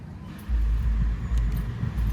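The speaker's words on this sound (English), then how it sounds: "Loud cars." Loud cars pass close by on a road while someone walks home, a deep rumbling roar that swells and ebbs in waves with no talk.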